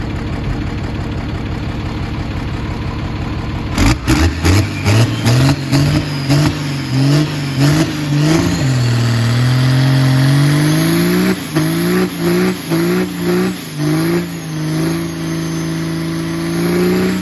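24-valve Cummins diesel truck engine, P-pumped, idling with a steady rumble, then revving hard in repeated bursts before holding a loud, sustained high roar for a burnout, close and dominant throughout.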